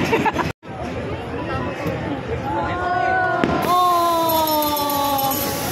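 New Year fireworks over Manila crackle and pop through steady crowd chatter and hubbub, with a sharp burst partway through and whistling tones rising above the noise of the gathering.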